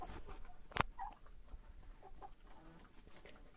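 Backyard chickens clucking at a rural home on a snowy day, a sharp close squawk early on followed by softer, scattered clucks over low background noise.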